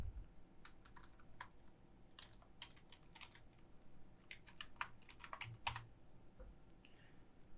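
Steady run of light keystrokes on a computer keyboard, typed in quick irregular bursts at close range, alone with no talking.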